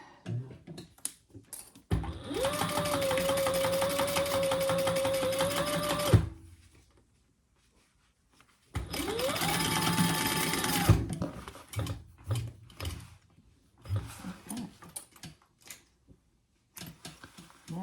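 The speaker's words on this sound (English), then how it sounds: "let's sew that together at the full seam allowance" A sewing machine stitches a seam in two long steady whirring runs of several seconds each, separated by quiet handling clicks and fabric rustle.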